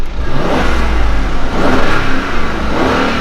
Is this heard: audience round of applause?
no